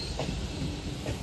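LNER Class 800 train, unit 800 105, on the Durham coast line, rumbling steadily with faint rhythmic wheel clatter over the rails, heard from close by and without talk.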